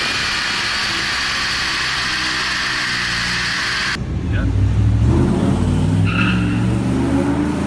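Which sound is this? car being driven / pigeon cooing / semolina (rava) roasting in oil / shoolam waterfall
car being driven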